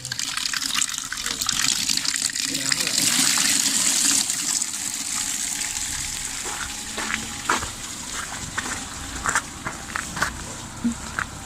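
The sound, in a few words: water running while washing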